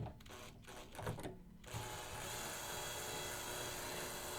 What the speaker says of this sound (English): Okay, so now I grab the drill.